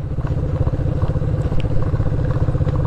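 A motorcycle loaded with luggage rides slowly off-road, its engine a steady, close, continuous rumble with faint rattling and clatter throughout and no voices.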